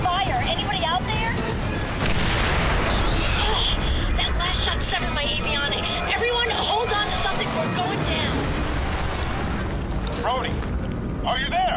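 Anti-aircraft fire in the video game Fracture: dense, continuous booming and crackling bursts roll on for the whole stretch, loud and busy, with heavy low rumble and debris-like clatter layered beneath.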